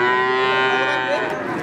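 A three-month-old calf at a cattle market moos once in a long, loud, drawn-out call that fills the whole moment, with no talk over it.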